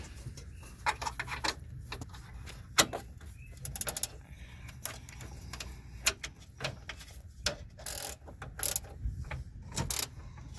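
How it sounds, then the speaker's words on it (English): A ratchet tightening a front impact airbag sensor on a 2008 Chevrolet Suburban, with rapid clicking ticks in short irregular bursts, close and fairly quiet in a workshop. "Here's my ratchet. And we'll give that a little tightening."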